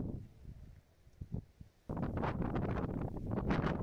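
Wind buffets the microphone on a hiking trail on Po Toi Island, Hong Kong, at first in light, uneven puffs, then in a steady, loud rushing roar.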